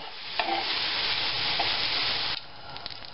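Meat filling with pitted prunes stirred in a frying pan, a steady sizzle and scraping of the spoon running for a few seconds with a couple of brief clinks, then the frying continues quieter.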